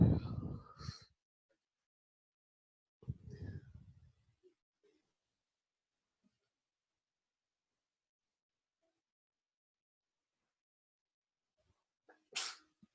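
A single sharp sneeze opens a quiet room during a live algebra lesson, followed by a short second burst and long silence, then a brief faint sound near the end.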